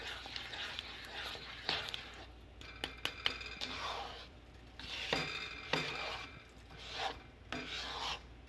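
A utensil scrapes and rasps through a pot of chorizo chili as vegetables are mixed in, with repeated gritty strokes and a few sharp clicks against the pot.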